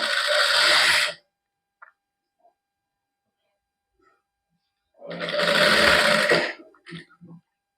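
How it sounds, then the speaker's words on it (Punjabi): A sewing machine stitches the neckline of a matching suit trimmed with lace, running in two loud, steady bursts separated by several seconds of near silence with a few faint clicks. "ਸੈਂਟਰ 'ਚ ਸਲਾਈ ਆਪਾਂ ਲਾ ਲਈ ਹੁਣ ਇਧਰਲੀ ਸਾਈਡ ਤੋਂ ਲੱਗਾਂਗੇ ਸਲਾਈ ਲਾਉਣ"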